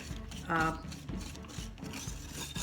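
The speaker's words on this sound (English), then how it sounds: "And whisk that all together." Eggs, yogurt and lemon cake batter whisked in a bowl, soft close scraping and rubbing strokes with a faint voice-like tone briefly over them.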